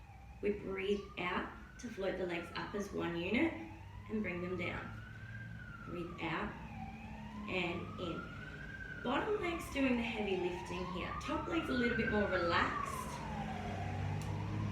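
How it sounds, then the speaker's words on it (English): Emergency vehicle sirens pass outside, a rising and falling wail repeating in slow sweeps across the whole stretch, sitting beneath a calm voice talking through a Pilates exercise. "Pardon the sirens."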